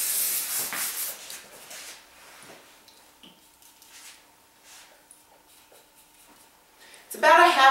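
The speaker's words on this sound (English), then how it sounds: "I always like to spray underneath." A brief burst of hairspray hisses at the very start, then quiet rustling and handling, with another sharp spray-like hiss at the end, during a haircut.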